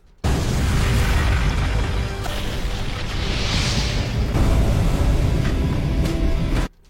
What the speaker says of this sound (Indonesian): beberapa polisi yang berada di sana terkena ledakan bom itu